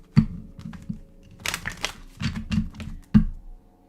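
Tarot cards being shuffled by hand, with soft riffling bursts and a few sharp taps as the deck is squared on a surface, close and quiet without talk.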